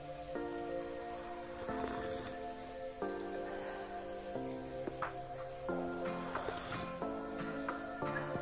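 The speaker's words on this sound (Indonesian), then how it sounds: "Dan kali ini lagi hujan, kedengeran nggak suaranya?" Steady rain falls outdoors during the rainy season, a soft continuous patter that runs the whole way through beneath louder tonal music.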